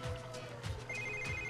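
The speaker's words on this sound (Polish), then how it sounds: "Komu dzwoni telefon?" A telephone rings in The Sims 3, giving a quiet, repeated electronic ring tone that sits over soft background music with no voices.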